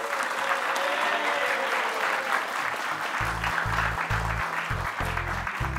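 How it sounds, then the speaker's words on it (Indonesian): An audience claps steadily at a Quran verse recitation show, a dense sustained applause with a low voice briefly over it near the end. "Benar, beri tepuk tangan dulu untuk Unaisa."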